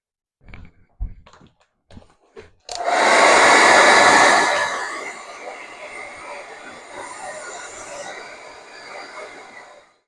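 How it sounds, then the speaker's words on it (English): A few soft knocks, then a hair dryer switches on and blows loudly for several seconds, drying damp material, dropping to a lower setting and whirring steadily until it cuts off. "Give it another blast with a hairdryer"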